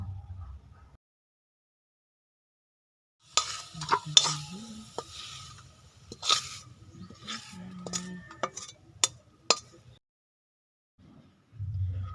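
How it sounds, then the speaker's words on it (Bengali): Orange and coconut filling for kadam pitha is stirred in a pan, with scraping and clinking strokes from about three to ten seconds, quiet gaps before and after, and no talking. "দিয়ে ভালো করে নাড়িয়ে পুর বানিয়ে নেব"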